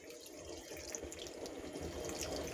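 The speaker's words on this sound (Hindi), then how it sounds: "अब नेक्स्ट इसमें शामिल करेंगे 1/2 कप पानी।" Half a cup of water poured into a cooking pot of mutton khichda on a gas stove, a soft, continuous splashing trickle heard faintly and alone for a couple of seconds.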